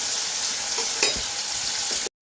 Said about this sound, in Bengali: আলুগুলো একটু ভাজা ভাজা হোক